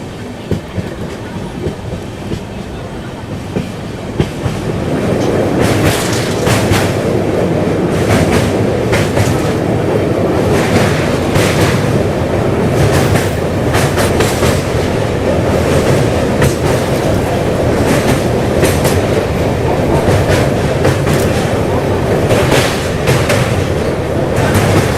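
Geetanjali Express train running on rails from Howrah Junction, a loud continuous rumble with rhythmic clickety-clack of wheels, heard from inside the carriage without talk.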